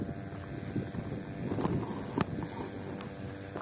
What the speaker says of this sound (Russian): Да, ветер усилился